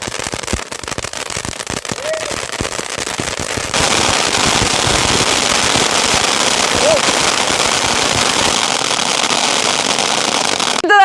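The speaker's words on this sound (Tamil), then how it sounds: "அடுத்ததான் நம்ம இந்த கிராக்கலிங் கோகனட் வந்து டெஸ்ட் பண்ணிடலாம்." A crackling coconut firecracker from Sivakasi goes off during Diwali, a dense, continuous rapid crackle that swells louder partway through and holds steady for many seconds, outdoors with faint voices underneath.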